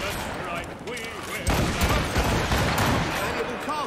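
Volley of musket gunfire in Assassin's Creed Rogue, a burst of several overlapping shots that hits loud at about the midpoint and rolls on as crackling fire, with shouted voices around it.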